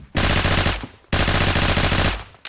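Two long bursts of rapid automatic fire from the K7 gun in the video game Phantom Forces, loud and dense, with a brief gap between them.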